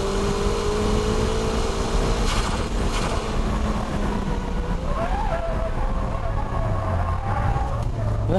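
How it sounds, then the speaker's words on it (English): Racing car drifting through a third-gear 100R corner at Ebisu, engine note rising and falling with a faint tire squeal, heard steadily from inside with some talk underneath. "Okay, shall we try this dynamic drifting?"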